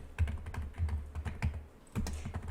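Computer keys are pressed in quick, separate clicks as a keyboard shortcut is entered during illustration work, several close, crisp taps in an irregular rhythm with no talking.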